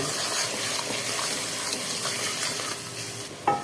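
Masala gravy of salt, red chili powder and turmeric fries steadily in a pan for an aloo palak dish, a continuous close sizzle with light stirring throughout and a brief sharper clatter near the end.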